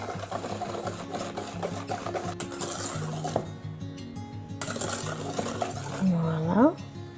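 Carrot cake batter is gently stirred after oil is added, giving soft rubbing and scraping strokes in a bowl at close range, with some background noise underneath.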